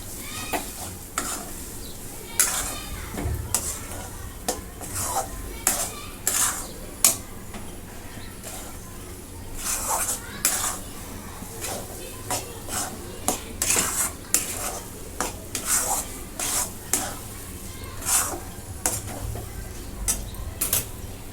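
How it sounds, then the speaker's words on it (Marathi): Ground chickpea dal is sautéed in a pan over low heat, with a soft sizzle under frequent clinks and scrapes of a spoon stirring against the metal pan, repeating in quick irregular bursts. "आता ही वाटलेली डाळ मी सगळं टाकून घेते परतून घेते"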